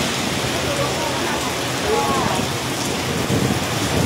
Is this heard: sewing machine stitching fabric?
no